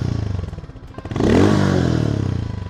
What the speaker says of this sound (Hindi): लेकिन the good part is maximum जो साउंड आ रहा है वो एग्जॉस्ट की तरफ से आ रहा है।